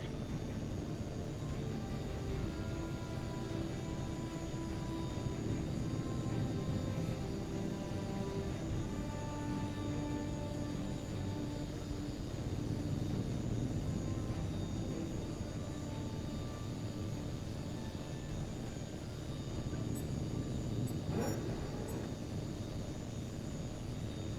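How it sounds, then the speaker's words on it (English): Fighter jet roaring on takeoff in the video game Tom Clancy's H.A.W.X 2, a sustained loud engine drone with a broad rumble and tonal whine, steady throughout with no talking. "Polaris flight, this is Bulldog. You're clear for takeoff."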